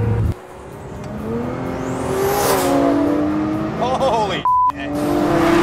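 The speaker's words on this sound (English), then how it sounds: "wastegate flutter and turbocharger whine" A 1400-horsepower AMS Performance Alpha 12 Nissan GT-R roars under hard acceleration, its turbocharger whine sweeping upward and its wastegate fluttering between pulls, loud and close inside the car, with a brief excited exclamation from a voice.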